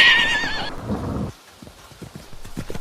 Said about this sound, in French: Le cheval passe la rivière au galop.